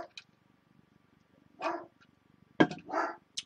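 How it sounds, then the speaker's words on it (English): A dog indoors barks at someone outside: a few separate, sharp barks and yips spaced across a mostly quiet room, one loud close bark near the end. "my dog's going to bark because somebody's outside"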